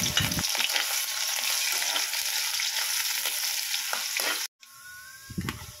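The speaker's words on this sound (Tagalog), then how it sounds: "Start na tayo maggisa. Lagay tayo ng mantika. Uunahin ko lang yung luya." Ginger sautés in hot cooking oil for a Pangasinan-style pinakbet: a loud, close, crackling sizzle with stirring for about four seconds, then a brief break and a quieter sizzle.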